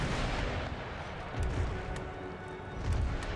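Mortar fire in the strategy game Empire: Total War, muffled low booms from distant artillery rolling under a continuous battlefield rumble, with two heavier thuds standing out, no talking.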